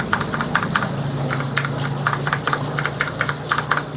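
Typing on white PBT XDA-profile keycaps, with old and new keys compared: rapid, close clacky keystrokes in quick clusters over a steady low hum.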